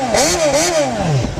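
A Suzuki GSR600 motorcycle engine revs up and down in a throaty, sporty burst, with the pitch climbing, dipping and climbing again before falling away, loud and close.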